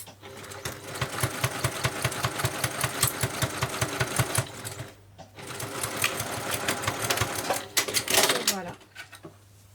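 A domestic sewing machine runs a straight stitch in two steady bursts of rapid, even needle clatter and motor whir, close and prominent, pausing briefly in the middle before a final slowing.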